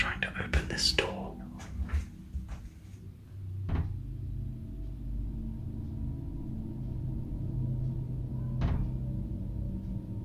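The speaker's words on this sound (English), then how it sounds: "Sounds like someone's trying to open this door." Someone works at a door in a dark, supposedly haunted room: a burst of rattling and knocking at the start, then a low rumbling hush broken by two isolated sharp clicks.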